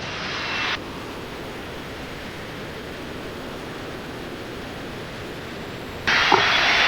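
A Cirrus Vision Jet descends on landing approach, and a steady, even engine roar and airflow rush fill the cabin throughout. Brief louder bursts of noise open and close the stretch.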